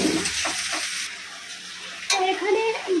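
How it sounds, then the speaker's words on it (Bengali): Onion, ginger, garlic and a cumin, coriander, turmeric and chilli masala frying in a pan for khichuri, a steady close sizzle with stirring scrapes, briefly joined by a faint voice near the end. "জিরা গুঁড়ো, ধনে গুঁড়ো আর হলুদ লঙ্কা দিয়ে মশলাটাকে কষিয়ে নিয়েছি"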